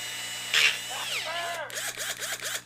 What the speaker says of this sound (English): you'd want to do one size down, which is a 1/8 size drill bit